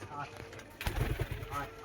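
Pigeons coo in short, soft, throaty bursts close by, mixed with a voice talking over them.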